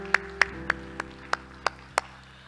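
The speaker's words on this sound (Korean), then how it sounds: "우리 하나님께 영광의 박수합시다." Church congregation clapping in praise to God after a prayer, a slow, sparse run of about seven distinct claps at a steady pace over a low background hum.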